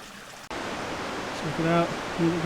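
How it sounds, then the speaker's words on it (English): River water rushing steadily through Linville Gorge, a constant broadband wash heard up close, with a voice breaking in briefly near the end. "Check it out, made it down to the river."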